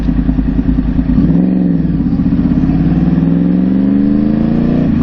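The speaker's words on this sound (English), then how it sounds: "The bike is running good." A motorcycle engine runs steadily and loudly close by, holding an even idle with a slight shift in pitch partway through and no voices.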